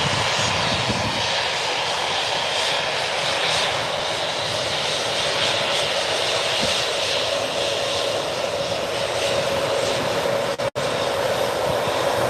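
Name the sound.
Embraer jet aircraft engine at Birmingham airport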